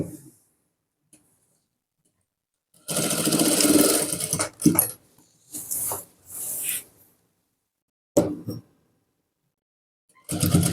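Sewing machine stitching a Nihang Singh chola garment, running in a long loud burst, then several shorter bursts with pauses between, up close and without talk.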